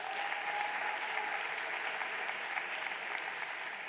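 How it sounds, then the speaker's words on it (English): Steady, dense applause from a large audience at a national school-exam results announcement ceremony, sustained evenly throughout at a moderate distance with no talk over it. "Another round of applause,"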